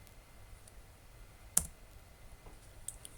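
Computer keyboard keys tapped while entering a command, a few quiet, sparse clicks with one sharper keystroke partway through and a couple more near the end, close and faint.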